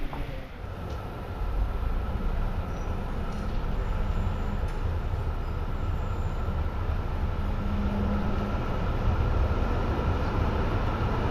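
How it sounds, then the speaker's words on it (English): Belgian coastal tram rolling steadily along its rails, a continuous loud rumbling rattle of wheels and car body with a faint high whine, heard from on board without pause. "it's best to get there by tram"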